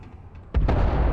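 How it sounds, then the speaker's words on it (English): An explosion in the video game Starfield erupts as a sudden, loud, deep boom that keeps rumbling heavily, following a quieter stretch of low ambient sound. "Now that's an explosion."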